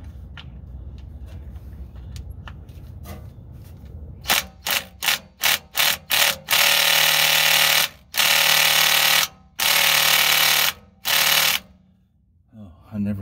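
A cordless Hitachi impact tool hammers at the rear differential fill plug of a 2002 Suzuki Vitara. It fires several short, loud bursts and then longer rattling runs with brief pauses between them, close and harsh.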